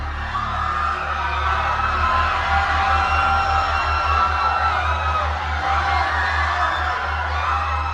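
Many voices scream and wail together in a dense, loud, continuous crowd-like din, a horror audio drama effect that swells steadily without pause.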